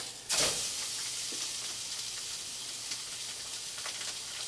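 A pound of pork sausage drops into a hot pan with a sudden sizzle burst, then settles into a steady frying hiss with small pops, close and moderately loud, no talking.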